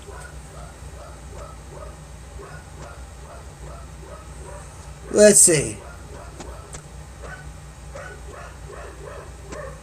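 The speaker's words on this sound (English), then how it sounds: "My dog is going crazy upstairs." A dog barks repeatedly upstairs in a house, muffled and somewhat distant, in steady rhythmic bursts under a short spoken remark, with a sharp louder noise midway.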